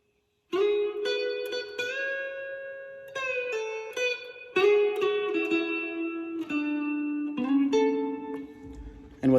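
Clean electric guitar lick from a song's solo, played alone: a run of distinct picked notes with slides and bends, each ringing into the next, steady and close for about nine seconds.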